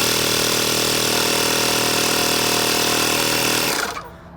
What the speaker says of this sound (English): when I flip this switch on, that compressor should fire right up